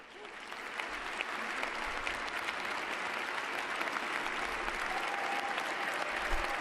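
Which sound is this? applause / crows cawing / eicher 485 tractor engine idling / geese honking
applause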